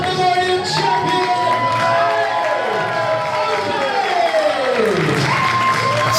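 A wrestling crowd in Yaxley cheers for the new DOA Pandemonium Champion at DOA Dangerzone 2022, a broad, continuous roar mixed with whoops and an announcer's voice over it.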